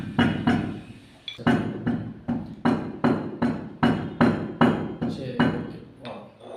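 Cumin seeds are pounded into powder in a steady series of about a dozen close, sharp thuds at an even rhythm, each with a short ringing tail, and a brief spoken word comes near the start.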